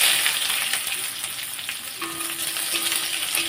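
Chopped onion fries in oil in a pan with whole cumin and torn chillies, giving a steady, close sizzle with faint stirring scrapes throughout.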